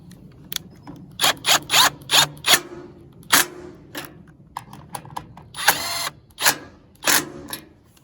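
Fasteners on a trailer light are snugged back up by hand, giving a series of short, sharp ratcheting and scraping bursts in irregular clusters, close and fairly loud, separated by brief quiet gaps.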